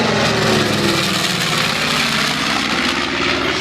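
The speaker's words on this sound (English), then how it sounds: "Additional heavy air support coming in, twin engine B-25, called Georgie's Gal, coming from south to north." A twin-engine B-25 bomber named Georgie's Gal at the Thunder Over Michigan airshow, droning past with a steady, loud propeller roar and broad rushing noise that barely changes across a few seconds, no voices.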